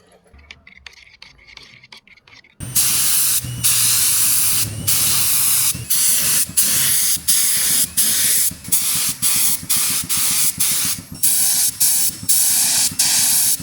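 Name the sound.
paint spray gun spraying a car's paint job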